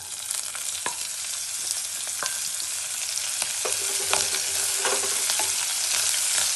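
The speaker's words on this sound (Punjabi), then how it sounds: "ਹੁਣ ਆਪਾਂ ਇਹਦੇ ਵਿੱਚ ਹਰੀ ਮਿਰਚ ਪਾ ਦਾਂਗੇ" Green chillies dropped into hot oil for chana dal, with a loud, continuous sizzle and crackle right up close, plus occasional sharp spatters and stirring clicks throughout, no voices.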